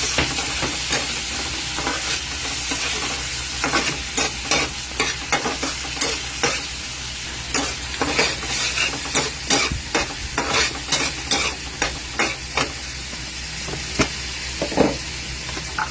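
Garlic and plenty of onion sauté in a pan under a constant sizzle, with repeated rhythmic scrapes and clacks of a spatula stirring close by throughout; no talking.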